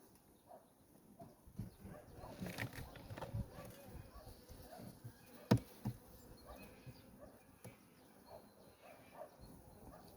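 Honeybees crawl on a hive frame during a late-winter colony inspection, a faint continuous buzzing hum close by, broken by scattered knocks and a sharp clack from handling the frame.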